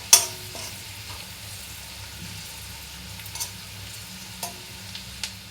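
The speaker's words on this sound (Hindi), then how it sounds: "ये देखिए कितना अच्छे से उबल रहा है।" Homemade hair oil bubbles and simmers in an iron kadhai while being stirred, a soft steady sizzle with a few faint scraping clicks of the spoon, quiet and close.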